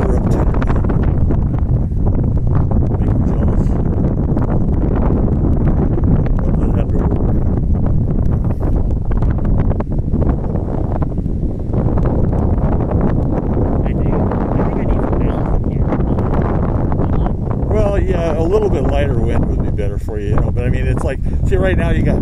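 Steady, loud wind roaring and buffeting the microphone on a hilltop at Top of the World during a flying session, continuous throughout with a voice speaking over it near the end.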